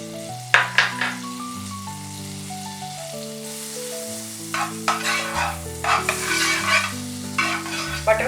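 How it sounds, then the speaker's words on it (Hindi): Butter melts and sizzles in a pan over low heat as it is spread around, soft crackling bursts and scraping that come and go under a steady backdrop of music. "बटर को पूरे पैन में फैला लीजिए"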